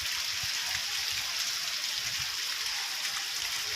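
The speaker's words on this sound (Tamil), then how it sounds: "நல்ல மழை பாருங்க" Heavy rain pouring steadily onto a rooftop terrace in Karaikudi, a dense continuous hiss with soft splashing patter, even and unbroken, no voices.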